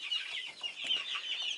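A flock of eighteen-day-old broiler chicks makes continuous overlapping high-pitched peeping and soft clucking, close and steady.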